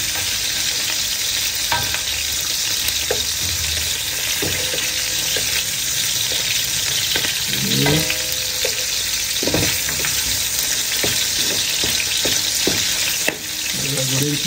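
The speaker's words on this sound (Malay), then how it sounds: "kita goreng sikit udang" Shrimp sizzle loudly in a hot pan on low flame, a continuous close frying hiss broken by occasional clinks and scrapes of stirring, with a brief spoken word.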